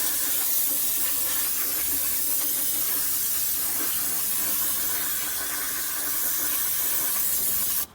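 Brake cleaner hisses steadily from an aerosol can into a differential housing being stripped of old gear oil and grease before welding, a loud continuous spray lasting the whole clip with no talk.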